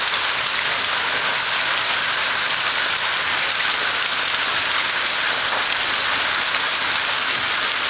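Dense, continuous patter of hail striking surfaces, constant and fairly loud throughout.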